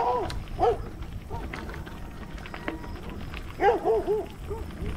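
Dogs whimper and yip in short bursts in the Gainesville, Texas countryside, a couple of high whines early and a cluster of them later, under light background noise.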